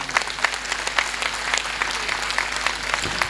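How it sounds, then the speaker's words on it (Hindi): Rapid rhythmic hand clapping from participants in a yoga class, a steady run of sharp claps carrying on throughout at moderate volume, with no talking. "अब बजाओ ताली।"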